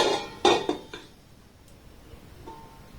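A metal lid clatters onto a pan while chitoi pitha, a semolina rice cake, cooks: a few close, sharp clanks and scrapes in the first second, then quiet kitchen background with a faint tap.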